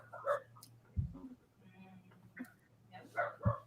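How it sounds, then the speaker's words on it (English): A dog gives a few short, quiet barks and yips close by in a room during a Lego Hidden Side build, with soft breathing between them and faint talk. "What's your dog barking at, man?"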